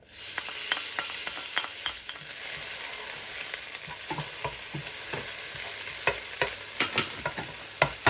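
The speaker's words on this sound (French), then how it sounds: "Une fois que mon huile est chaude, je vais y déposer la moitié de l'oignon." Half an onion fries in hot olive oil in a tagine dish, giving a steady hiss of sizzling with frequent sharp scraping and tapping as it is stirred, close and fairly loud.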